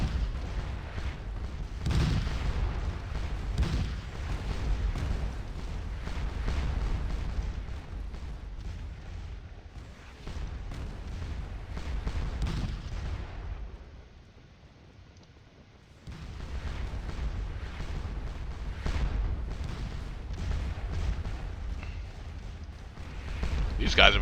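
Cannon fire from an artillery battery in the Napoleonic-era battle game Scourge of War, a continuous rumble of distant booms and rolling gunfire that briefly thins out before resuming, under someone talking.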